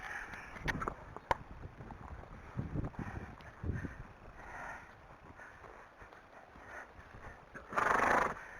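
An Arabian horse is ridden outdoors on a very windy day, its hoofbeats sounding as scattered, uneven thuds under blustery wind noise, with a strong gust buffeting the microphone near the end.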